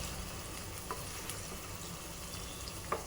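A ridge gourd and egg mixture fries in oil in a pan, giving a steady, even sizzle with a couple of faint spatula taps and no voices.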